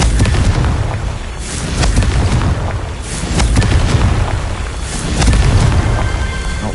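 Fire-blast spell explosions in the Hogwarts Legacy video game, a dense run of deep booms and bursts that swell and fade in overlapping waves, loud and close throughout.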